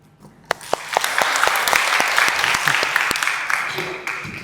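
An audience claps together in a lecture hall, rising quickly from a few scattered hand-claps into dense, sustained applause that stays loud and then thins slightly toward the end.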